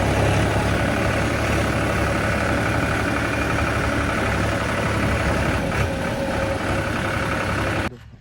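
A tractor engine idles near at hand with a loud, constant low rumble and even mechanical throb, then abruptly quietens at the very end.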